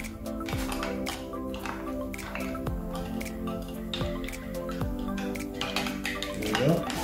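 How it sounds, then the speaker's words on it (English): A bar spoon gently stirs a scotch and soda with ice, steady clinking and tinkling of ice against glass throughout, with a few sharper pings. "so just stir it a little bit more to get a little bit of dilution"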